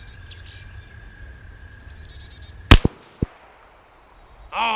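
A CMMG Banshee in 40 S&W fires a single sharp gunshot at an outdoor range, followed by quick echoes and a faint distant plate hit, with birds chirping in the background.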